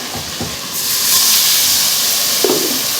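Ginger garlic paste and spices frying in a hot pan, a steady loud sizzling hiss that swells after a brief quiet start and holds, with a small clatter near the end.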